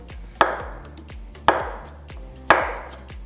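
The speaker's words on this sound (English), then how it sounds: "just chop it into small pieces." Knife chopping banana into small pieces on a cutting board, three evenly spaced sharp chops about a second apart, close and clear with no voices.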